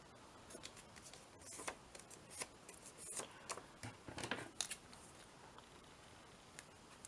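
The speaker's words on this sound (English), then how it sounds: "I might just cut this one with the scissors." Scissors cutting a paper lace embellishment, heard as faint, close snips and crisp paper rustles in irregular bursts against a quiet room.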